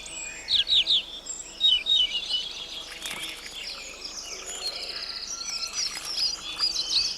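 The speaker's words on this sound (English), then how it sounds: "Its clear song is strong in spring, mellow in autumn." A European robin sings its clear song outdoors, with bright, high warbling phrases and quick chirps repeating at moderate volume over a faint insect-like background hiss.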